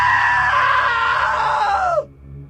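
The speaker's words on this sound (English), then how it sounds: "Now that was a great scream." A long, loud scream in What Remains of Edith Finch, holding a high wavering pitch before sliding downward and cutting off abruptly into quiet.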